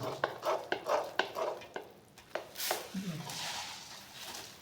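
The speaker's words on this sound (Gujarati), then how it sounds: "આ રીતે આપણે નાખીને બધા જ મમરાને હલાવતા જઈશું" Puffed rice tipped into hot melted jaggery off the heat and stirred for ladoos, producing a few quick rustling, sticky scrapes and soft taps up close, with a brief hiss toward the end.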